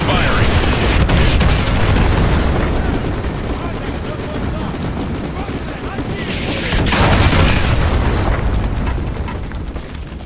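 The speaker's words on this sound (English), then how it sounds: "Artillery inbound. Coordinates confirmed. Firing." Artillery strike explosions rumble through a Call of Duty Modern Warfare 2 battlefield, a continuous heavy barrage of booms and blasts mixed with gunfire, swelling again near the end.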